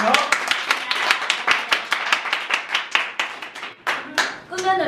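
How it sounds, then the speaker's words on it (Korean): A small audience at a storytelling talk gives a short burst of sparse applause, with separate claps in an uneven rhythm that thin out toward the end. "여러분 뜨거운 박수로 모시도록 하겠습니다"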